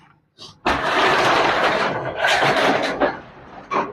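A Tata Intra V20 truck's container shutter rattles open in a loud metallic rolling clatter lasting a few seconds, with a short knock just before and a final clank at the end.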